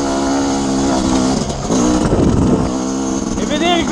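A 250 two-stroke motocross bike running on a dirt track, its engine revving and rising and falling in pitch, close and fairly loud, with a voice talking over it.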